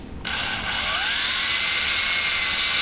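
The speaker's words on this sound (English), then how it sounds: "Okay, I got a slightly larger drill bit for the wheels." A power drill with a slightly larger bit bores out foam model airplane wheels, a steady high whining drone starting abruptly and running continuously, close and loud, with no talking.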